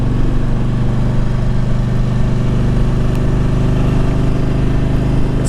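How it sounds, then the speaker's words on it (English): A 1999 Harley Davidson Electra Glide Standard with 126,000 miles idles with a loud, steady, deep exhaust rumble, close and continuous with no talking. "I mean, it's got a great exhaust sound to it."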